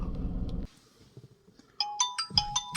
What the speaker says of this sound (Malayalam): മമ്മിയുടെ സെയിം റിംഗ് ടോൺ നമ്മൾ ഇതിനകത്ത് സെറ്റ് ചെയ്തിട്ടുണ്ട് ഞാൻ എൻ്റെ ഫോണിൽ നിന്ന് വിളിച്ചതാണ്